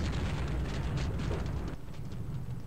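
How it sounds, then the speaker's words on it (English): A grenade explodes in Half-Life with a rolling, roaring blast, a broad rumble that swells and then eases into a fading tail, fairly faint overall. "Not the grenade! Not the grenade! Not the grenade! I don't like the grenade."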